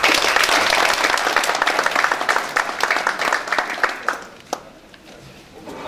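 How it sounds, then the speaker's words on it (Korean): Attendees at a regional finance policy forum applaud a lawmaker coming up to give congratulatory remarks, a full burst of clapping that thins into a few scattered, closer claps before falling quiet. "힘찬 박수 부탁드립니다."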